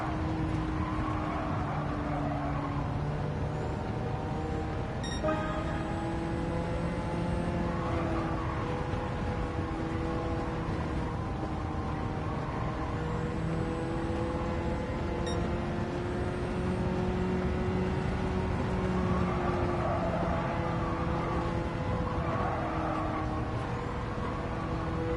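A Ford car racing in Gran Turismo 7, its engine droning steadily throughout with the pitch rising and falling through gear changes and a couple of brief clicks.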